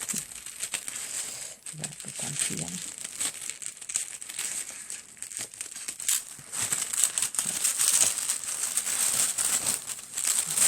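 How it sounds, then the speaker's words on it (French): Tissue paper is unwrapped from a mailed parcel and crinkled continuously, close and bright, with a brief spoken remark partway through. "J'essaie de pas découper le papier. Ça va être difficile. Le papier de soie, c'est fragile."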